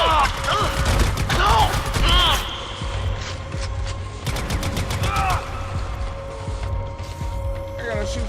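Gunfire in a video game, with bursts of rapid shots and clicking weapon mechanisms amid shouting voices, busiest early, then sparser shots and a lingering hum.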